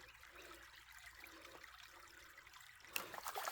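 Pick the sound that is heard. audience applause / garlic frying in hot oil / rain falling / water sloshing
water sloshing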